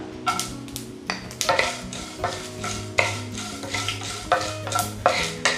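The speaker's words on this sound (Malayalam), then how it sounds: "ഈ സമയത്ത് നമുക്കിതിലേക്ക് ഒരല്പം ക്യാഷ്യൂ നട്ട്സ് ചെറിയ പീസസ് ആയിട്ട് കട്ട് ചെയ്ത് ഇട്ട് കൊടുക്കാം" Small cashew pieces fry in a pan with urad dal, cumin and mustard seeds, a close sizzle broken by repeated stirring scrapes and spoon clatters against the metal at an irregular pace.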